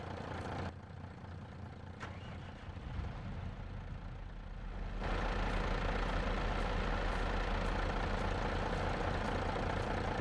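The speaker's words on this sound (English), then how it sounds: "We'll fire up the tractor, get the auger spinning." A tractor from a Montana farming game, running with its grain auger spinning: a low, steady engine drone that rises into a louder, fuller rumble partway through and holds there.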